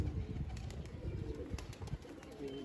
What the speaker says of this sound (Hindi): अभी ये वो कबूतर पकड़ा है, एक और कबूतर आ गया काला